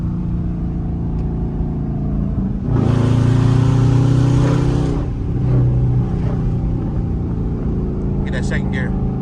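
A Dodge Charger or Challenger accelerating hard in second gear, a loud engine roar that swells for a couple of seconds, eases, then surges briefly again, heard close with people talking over it.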